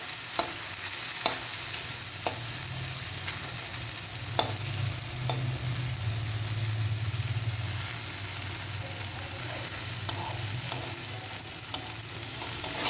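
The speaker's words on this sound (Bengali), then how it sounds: "দেখুন আমার এই ভাজা হয়ে গেছে।" Okra bhujia sizzling in a pan while being stirred, a steady frying hiss broken by regular spatula scrapes and clicks against the pan, close and moderately quiet with no talk.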